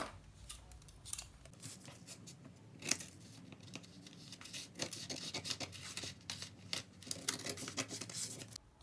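Scissors cut out a paper bodice pattern in a series of close, crisp snips with soft paper rustling between them, quiet and without talk.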